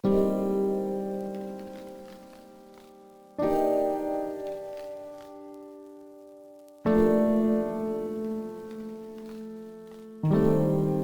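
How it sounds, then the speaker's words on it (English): Sustained piano-like chords ring out, each struck and left to decay slowly, with a new chord entering roughly every three and a half seconds, no voices. "that's the piano sound"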